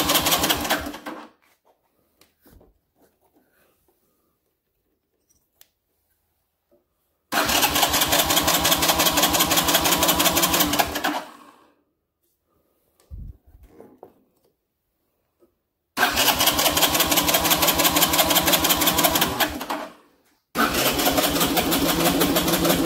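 Trike engine fed fresh gas and starting fluid, cranked and catching in three loud bursts of rapid rattling firing, each lasting a few seconds before cutting out, separated by silent pauses with faint handling noises between.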